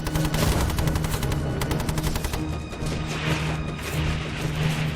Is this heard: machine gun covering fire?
yes